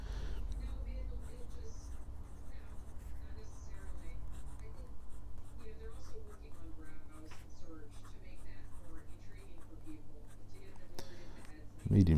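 A fountain pen with a medium steel nib scratches across a Rhodia pad in a soft, steady scritching of strokes, close up with a faint low hum underneath.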